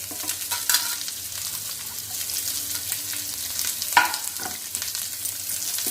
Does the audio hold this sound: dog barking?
no